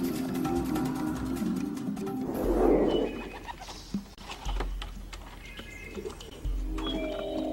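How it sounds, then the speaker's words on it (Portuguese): Homing pigeons released from a transport box in an open, treeless field, with soft cooing and fluttering wing patter over a steady outdoor background, a burst of activity in the middle. "Eu abro a caixa e eu solto os pombos."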